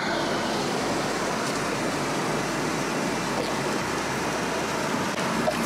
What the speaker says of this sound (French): Au bord d'une rivière